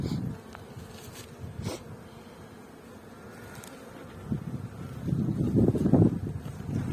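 Buckfast honey bees buzz as they are released from a nucleus colony, a continuous droning hum that swells louder toward the end, mixed with light wind rumble and no talking.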